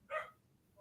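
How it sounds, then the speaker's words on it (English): A puppy gives one short, high yip, fairly close, then quiet follows. "It's a puppy."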